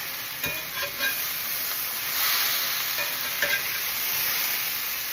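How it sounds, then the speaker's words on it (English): Corn tortillas warm and cook on a hot griddle, giving off a steady soft sizzle with a few light taps and scrapes as they are handled; no one speaks. "Throw some tortillas on here. Warm those up."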